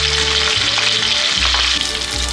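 Pabda fish fry in hot oil for a second time, giving a loud, continuous, close sizzle with crackling throughout and no talking.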